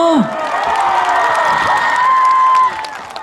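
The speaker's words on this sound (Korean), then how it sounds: "이렇게 박수 쳐주시고 환영해 주시는 것도 좋지만" Concert audience applauding and cheering for a Korean trot singer on a cold evening, a dense, steady wash of clapping and shouts with whoops, fading slightly near the end.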